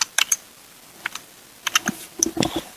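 Bursts of typing on a computer keyboard while setting up a group name, quick clustered key clicks with brief pauses, close and clear with no talking.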